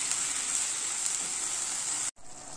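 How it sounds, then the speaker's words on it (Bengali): A ground masala paste with cashew and melon seeds sizzles in a pan as it is fried, a steady soft hiss with faint stirring that drops out for a moment and then returns. "দিয়ে আমি আরো কিছুক্ষণ আমি এটা কষাবো"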